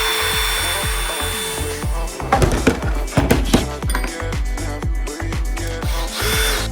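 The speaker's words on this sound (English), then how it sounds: "Let's go to an actual drill." A power drill whirs and grinds in short repeated bursts during a kitchen fit-out, loud and close, with rough scraping as the bit works through material.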